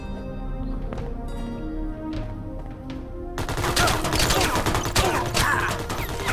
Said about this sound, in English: It's like a submachine gun.